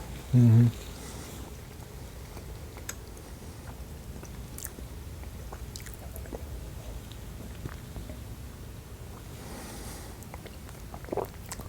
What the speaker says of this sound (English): Let's try a piece of dark chocolate.